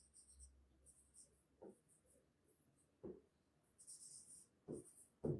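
Faint, sparse scratches and taps of writing on a board during a Bengali grammar lecture on consonant sounds, coming in a few short strokes over a quiet room.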